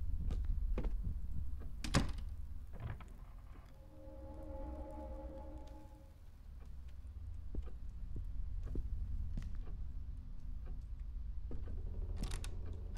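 A creaky door in the horror game Song of Horror swings open with a drawn-out groaning creak in the middle of scattered clicks and thumps, set against a low, quiet ambient hum.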